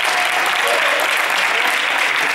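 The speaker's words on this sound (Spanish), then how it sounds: "podéis aplaudir, aplaudir" A university audience bursts into loud, sustained applause, a dense wash of clapping from many hands that fills the room.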